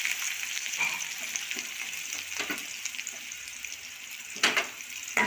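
Chopped onions added to hot oil with curry leaves in a pan, a steady close sizzle of frying with occasional scraping stirs and brief louder bursts as the pieces are moved.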